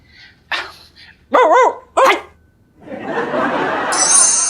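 A puppy gives a few sharp, close barks, separated by short pauses, followed by a burst of noisy background sound.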